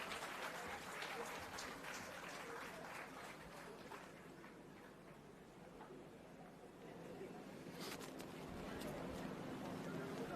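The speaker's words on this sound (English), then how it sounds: "a very warm, loud, roaring, welcome applause to the Honorable Littleton Tanny" Crowd applause welcoming an honored guest at an outdoor groundbreaking ceremony, steady and distant-sounding clapping mixed with murmuring crowd noise, continuing throughout at moderate level.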